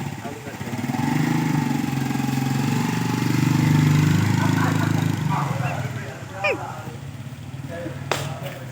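A 2010 geared motorcycle, similar to a Pulsar, runs with a throbbing engine rumble for several seconds, then fades to idle. People talk nearby.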